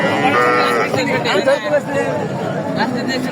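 Indian-breed calf mooing at a busy cattle market in Sirajganj, a few short bellows rising over steady crowd chatter and nearby talking voices.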